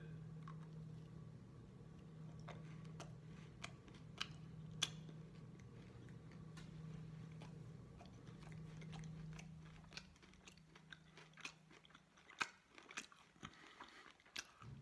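Crunchy chewing and biting of a Pure Protein vanilla birthday cake bar with sprinkles, a run of sharp close-up crunches over a low steady background hum.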